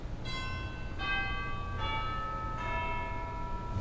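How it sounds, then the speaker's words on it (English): Chimes on a 1924 Wurlitzer organ at a St. Louis museum strike four bell-like tones one after another, each ringing and overlapping the next, moderately loud over a low background hum. "We have some chimes."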